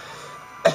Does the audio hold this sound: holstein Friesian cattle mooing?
no